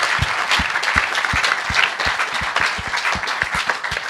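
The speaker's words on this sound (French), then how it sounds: "Je crois que vous pouvez les applaudir bien fort." Loud, close applause from an audience at a sports review conference, many hands clapping in a dense continuous wash, with a few distinct sharp claps standing out at irregular moments and no one talking.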